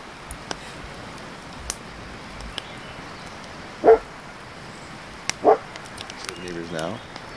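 A dog barks at neighbours at a backcountry campsite on Lake Superior, with two sharp barks a second and a half apart and a short whimpering yip afterward, against a quiet outdoor background with faint ticks.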